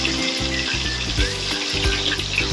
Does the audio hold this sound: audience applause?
no